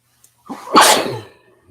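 A single loud, close allergy sneeze with a sharp inhale building into an explosive burst, followed by quiet.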